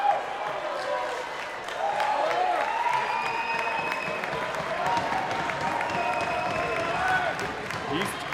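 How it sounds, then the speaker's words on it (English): High school ice hockey crowd at a rink applauds and cheers in a sustained wash of clapping and voices, steady and moderately loud, with whistles and rink noise mixed in. "East cheering section is on their feet."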